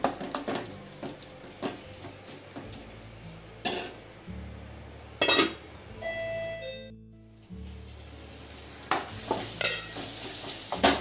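Tomatoes cooking for a fish curry, stirred in a pan with an intermittent soft sizzle and several sharp clanks of the spoon against the pan, plus a short lull in the middle.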